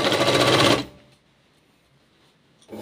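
A sewing machine stitches a cross strip on a katori blouse in a loud, close, rapid whir for under a second, then stops, falls quiet and starts up briefly again.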